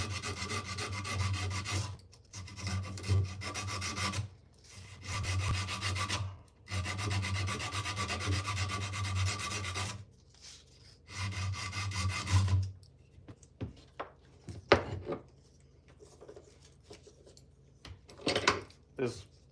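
Sanding to take scratches out of a surface, heard as repeated rhythmic rubbing strokes, each a few seconds long with brief pauses between, close and fairly loud, giving way to scattered lighter scuffs and taps near the end.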